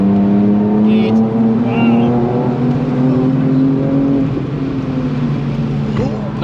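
A BMW E30 at full throttle on the Nürburgring, its engine droning loud and near with a steadily rising pitch that eases off toward the end, a voice briefly heard over it.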